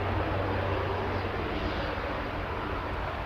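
An Aer Lingus Regional airliner on approach to land at Manchester Airport, heard as a steady, broad engine roar with a low hum throughout, fairly loud and unchanging over a few seconds.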